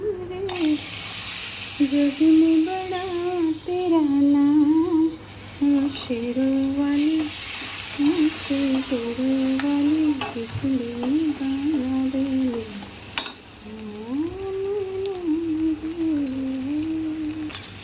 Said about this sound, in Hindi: ऐसा देसी घी में हल्का सा ये जब रोस्ट हो जाते हैं तो इनका एक अच्छा फ्लेवर आता है